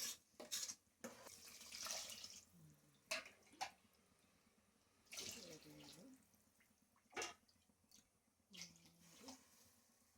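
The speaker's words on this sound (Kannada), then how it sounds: "ನಾಲ್ಕು ಲೋಟ ನೀರು ಹಾಕ್ತೀನಿ" Four cups of water pour and splash into a cooking pot in several short bursts, with quiet pauses between, and faint talking in the background.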